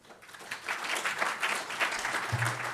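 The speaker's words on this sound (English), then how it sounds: "You don't have to applaud me, really, you don't." Warm audience applause for a speaker at an evening lecture, a steady patter of hand claps swelling in and continuing throughout, with a brief low thump near the end.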